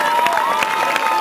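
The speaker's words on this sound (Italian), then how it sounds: "vorrei un grosso applauso" Crowd clapping and cheering at a salsa show at a Festa dell'Unità in Vimercate, a brief burst of rapid clapping mixed with shouts and whistles, close and lively, with music tones running underneath.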